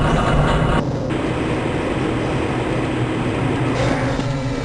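A train rumbling steadily along the tracks in the video game Half-Life: Blue Shift, a continuous heavy roar with a dull low drone, close and loud throughout.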